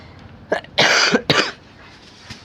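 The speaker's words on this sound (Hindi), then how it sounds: "थोड़ी सी खांसी हो गई है ना" Two or three loud, close coughs in quick succession from a teacher, followed by quiet.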